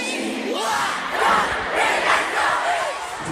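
A huge stadium crowd at a concert at Foro Sol in Mexico City roars and cheers continuously, with loud, overlapping voices swelling in waves.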